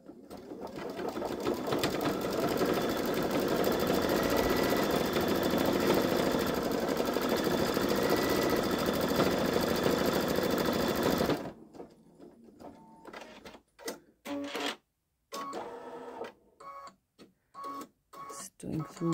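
A Babylock Solaris Vision embroidery machine stitches outlines in a steady, loud, continuous whir for most of the stretch, then cuts off into quieter gaps with a few short bursts of activity and small handling sounds.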